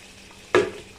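Water is poured into a pan of hot chicken curry, causing a sudden loud sizzling splash that fades out within half a second, close and heard alone over a low background hum.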